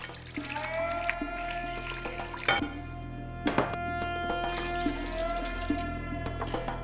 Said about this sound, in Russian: Воды придется еще добавлять, поэтому я сполосну миску этой водой.